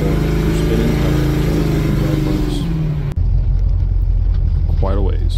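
A budget LS-swapped squarebody Chevrolet C10 pickup pulls away hard at over half throttle, its V8 engine roaring loud and close and rising in pitch, with a sudden cut partway through before a rougher, noisier stretch follows.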